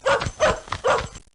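A cartoon dog in the 1995 PC game Instant Readers barks three times in a quick, loud, evenly spaced series, close and alone with no talk over it.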